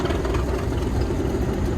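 Vintage quarry digger engines idle in a steady, even drone at an old-school quarry show, a continuous low rumble with no revving.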